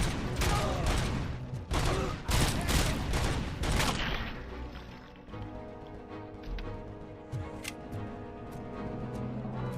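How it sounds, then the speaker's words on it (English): Heavy gunfire in the RoboCop: Rogue City video game, dense loud bursts of rapid shots up front that give way to a quieter game soundscape with scattered clicks. "I'm getting shot at by big guns and I don't like it."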